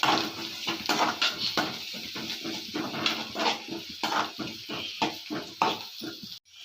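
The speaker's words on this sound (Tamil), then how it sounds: "கருவேப்பிலை போட்டு நல்லா திண்டிக்கணும் வெங்காயம் நல்லா வரைக்கும் நல்லா வதக்கிக்கணும்" Onions and curry leaves are sautéed in a pan for veg kothu parotta, with rhythmic metallic scraping and clattering strokes of a spatula over a soft sizzle, close and fairly loud.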